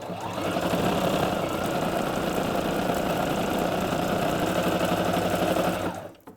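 A Viking Onyx 25 sewing machine runs steadily as it stitches fabric on the bias, a close, loud, even mechanical whir lasting several seconds before winding down abruptly at the end, with no talking.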